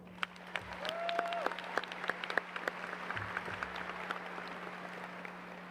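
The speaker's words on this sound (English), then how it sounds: "Let's please give them another round of applause." A crowd at a high school graduation ceremony applauds steadily throughout, many hands clapping at a moderate distance, with a steady low hum beneath and a brief whistle near the start.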